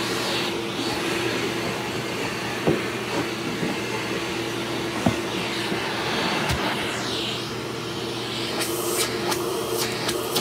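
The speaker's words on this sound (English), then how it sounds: "I really like this vacuum." An Omega Supreme Plus vacuum cleaner running steadily as it picks up debris from a rug, a continuous even motor hum with a few brief knocks and rattles of sucked-up bits, with no talk.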